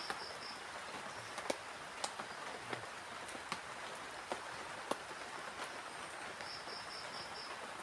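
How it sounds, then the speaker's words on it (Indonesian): Light rain pattering at a night campsite in Indonesia, a soft steady hiss with scattered faint drop ticks and a few high insect chirps, quiet and continuous with no talking. "Sambil ditemani sama rintikan hujan ya."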